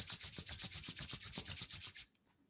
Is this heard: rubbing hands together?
yes